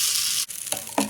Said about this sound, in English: Once you put the oil, we'll put the batter in.